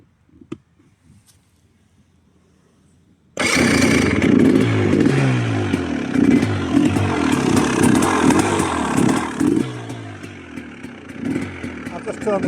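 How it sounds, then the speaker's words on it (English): A 2026 GPX 300L TSE motorcycle starts after a quiet pause, then idles on choke with a loud, close, steady chugging and some clattery mechanical noise throughout. "So I'm just going to start it up."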